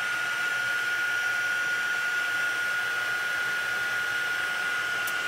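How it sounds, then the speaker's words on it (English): Heat tool blowing a steady, loud whir over wet watercolor paint, a continuous close-up drone with a high whine, running unbroken with no voices. "I'm going to hit this with the heat tool just to help it dry a little bit"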